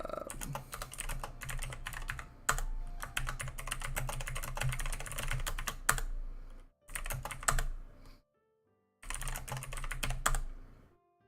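Rapid typing on a computer keyboard, dense clattering keystrokes in bursts with short pauses between them, close and clear with no talking.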